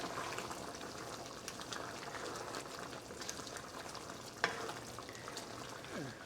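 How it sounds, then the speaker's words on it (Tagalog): Soft, steady bubbling and sizzling of chicken curry simmering in a pan while it is stirred, close and fairly quiet, with one brief clack of a utensil and no talking. "Tapos haluin natin."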